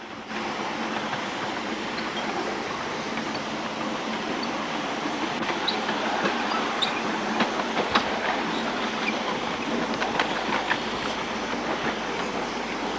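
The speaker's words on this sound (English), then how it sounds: "And this engine making plenty of steam." Miniature railway steam engine at Halton running round its track in 1993, a steady close rumble with rhythmic wheel clicks over rail joints and occasional sharp clacks, no voices.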